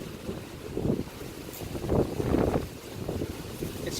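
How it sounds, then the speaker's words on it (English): Strong wind outdoors buffeting the microphone in rough low gusts that swell and fade, loud and continuous, no clear voices. "It's really strong wind today."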